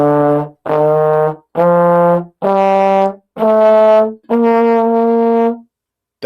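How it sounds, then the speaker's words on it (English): Six sustained notes of a major scale rise step by step in a steady, evenly spaced sequence, each held about half a second to a second, loud and clear. "That is a major scale"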